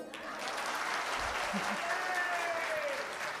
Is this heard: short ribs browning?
no